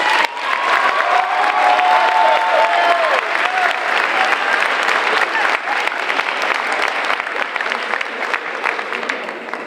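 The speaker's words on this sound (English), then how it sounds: "It will take a little bit longer now to give some applause to Shayna Crisostomo Lopez." Graduation audience applauding steadily and loudly throughout, a dense wash of clapping hands with some crowd noise mixed in, beginning right at the start and holding near full level to the end.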